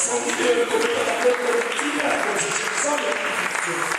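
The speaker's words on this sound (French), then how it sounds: "J'aimerais que nous puissions acclamer la présence du Seigneur." A church congregation claps and cheers steadily and loudly in praise, a dense continuous wash of applause filling the room, with voices mixed in.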